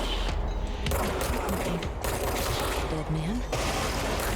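Rapid gunfire in the video game Control, rattling steadily throughout under a loud wash of game sound, with a voice speaking briefly over it.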